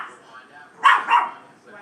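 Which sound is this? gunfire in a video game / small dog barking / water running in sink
small dog barking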